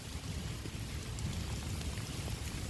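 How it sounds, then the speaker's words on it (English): Steady rain patters down outdoors during metal detecting on an old sidewalk in Omaha, a dense, continuous hiss of drops on surfaces that stays even and close throughout. "the rain has started to come down on me"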